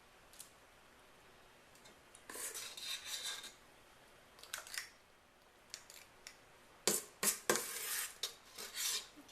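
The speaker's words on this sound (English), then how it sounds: "Now I'm going to use my ice cream scoop to fill my cupcake liners." A metal ice cream scoop works through Oreo cupcake batter and drops it into paper liners, giving soft scraping and tapping bursts in irregular clusters, louder toward the end, with no talk.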